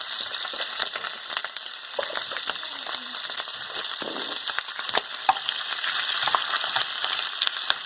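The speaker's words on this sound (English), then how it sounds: "So now I'm going to stir fry it, okay? So it's going to make a lot of noise." Pig's feet for Hong Kong braised trotters stir-fry in a wok, giving a loud, constant sizzle and sharp scraping clinks as they are tossed.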